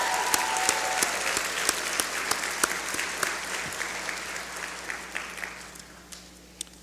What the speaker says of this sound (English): Let's give that group of support system a rounding applause as well.